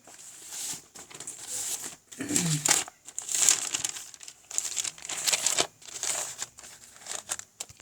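Sheets of paper are crinkled and shuffled in repeated bursts, near and moderately loud, with brief quiet gaps and no talking.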